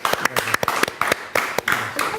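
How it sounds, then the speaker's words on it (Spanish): An audience claps to welcome a forensic entomologist onto the stage for a lecture, producing a burst of brisk, evenly spaced claps that sound fairly close and modest in size. "a quien recibimos con un fuerte aplauso."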